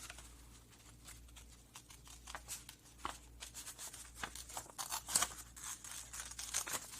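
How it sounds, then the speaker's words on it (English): Scissors snip paper around a drawn crow shape for a Halloween card, quiet close crisp cuts and paper rustles in an irregular rhythm, with no talk. "I would go in here and just kind of hold on to this and cut around my shape."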